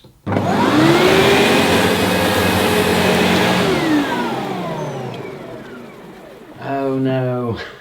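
A Diversey Ensign SM1 upright vacuum cleaner by Sebo running on carpet, a loud steady motor whine that starts abruptly, falls away as it cuts off, then surges back near the end.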